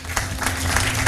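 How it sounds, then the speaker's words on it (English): Brief burst of audience applause for the candidates at a Nakuru County gubernatorial debate, a dense wash of clapping filling the short moment with low hum beneath. "A big round of applause to the candidates."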